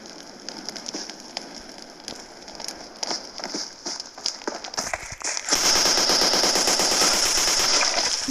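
Video game gunfire from a Bizon submachine gun: scattered shots and short bursts build into dense, continuous rapid fire that grows louder and fills the final seconds.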